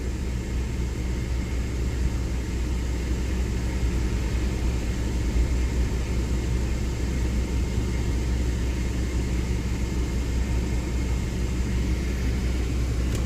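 A 2008 Jeep Liberty 3.7L 4x4 runs with its A/C compressor clutch engaged, a steady broadband engine and compressor drone with low rumble, unchanging and continuous throughout, with no voices.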